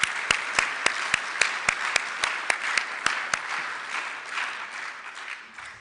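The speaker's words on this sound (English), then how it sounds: "give yourself another round of applause" Audience applause at an annual student design competition banquet, a steady round of many hands clapping with a few sharp, loud claps standing out early before the crowd sound gradually thins and fades.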